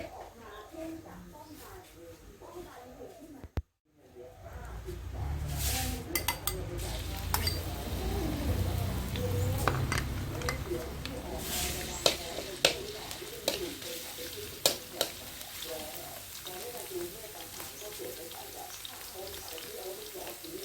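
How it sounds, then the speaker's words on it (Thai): Garlic frying in hot oil for Thai nam ngiao, a steady sizzle that swells after a brief silence and continues with scattered clinks of stirring, while someone talks over it. "ใส่น้ำมันเพื่อที่จะเจียวกระเทียมนะคะ"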